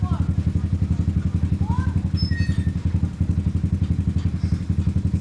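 A motorcycle idling close by with a steady low chugging throb throughout, some light clatter on top and brief faint chirps overhead.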